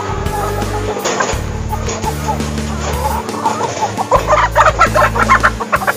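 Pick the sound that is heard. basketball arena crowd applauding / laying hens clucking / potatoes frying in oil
laying hens clucking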